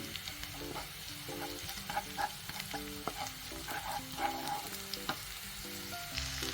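Onions frying in oil with curry leaves and green chillies for ventaka pachadi, a steady sizzle broken by repeated scraping of a spoon against the pan, close and moderately loud, no voices.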